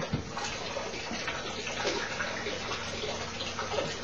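Water discharging from a tank pours steadily into a container, a continuous broadband splashing rush heard up close with no talk.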